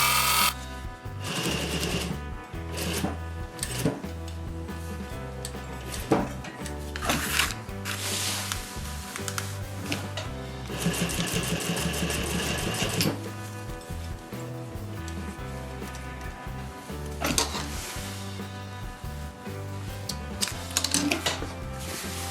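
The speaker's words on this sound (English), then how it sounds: "We're going to finish stitching the rest of this long edge." A sewing machine runs steadily along the long edge of a fabric pillow insert, its rapid mechanical stitching continuous and close with brief pauses and restarts, and no one speaking.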